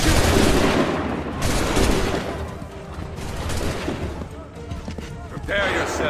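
Musket volley gunfire in the video game Assassin's Creed III, loud ragged volleys of many shots cracking together, then fading into scattered reports and battle noise, with shouted voices mixed in.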